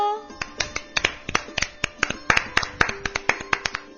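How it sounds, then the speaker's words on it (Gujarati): A rhythmic run of sharp hand claps, about twenty in four seconds, close and steady, with a voice speaking softly underneath during a children's clapping game. "તાળી પાડો તો"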